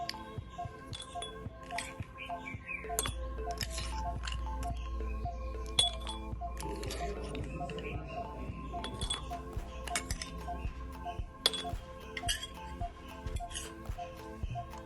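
Ice cubes clink and tinkle against glass in a long series of bright, irregular taps, with a low hum running underneath for much of it.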